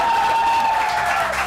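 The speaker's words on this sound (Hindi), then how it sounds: "प्लीज बहुत सारी तालियां।" A studio audience on a morning talk show applauds steadily for a guest, a dense wash of clapping under a sustained tone, with no speech over it.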